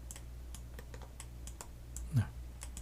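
Mouse clicks while Ctrl-clicking to deselect components in Autodesk Maya 2019 on a computer, a series of quiet, close, sharp clicks spread across a low background hum, with one louder click near the end and no talking.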